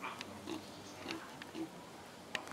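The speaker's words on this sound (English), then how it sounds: "to making pig noises" Pig at a zoo in the Bahamas grunting and oinking in short low bursts, a few spaced grunts close by with soft snuffling and background voices around it.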